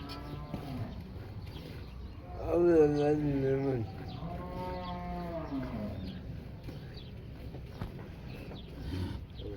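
A cow moos once, loud and drawn out, over a steady murmur of voices and farmyard background.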